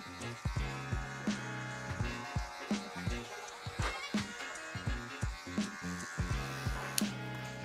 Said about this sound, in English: clipper over combing right here in this area